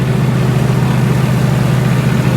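A tractor engine fitted with a pump setting runs at a steady idle, giving a continuous low, heavy drone that stays even and unbroken throughout.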